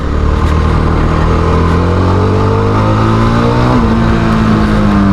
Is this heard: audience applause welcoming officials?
no